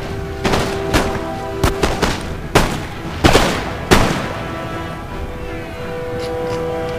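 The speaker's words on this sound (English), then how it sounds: "They've still got all their mortars firing away." Repeated gunfire and mortar blasts from a Napoleonic-era battle in the strategy game Empire: Total War, irregular sharp cracks and booms scattered over a steady rumbling battlefield din, fairly loud with no talking.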